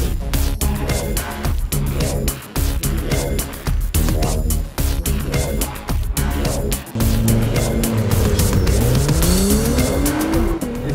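A 2017 Acura NSX drives hard around Sonoma Raceway in California, its loud engine rising and dropping through gear changes, with tire squeal as it corners.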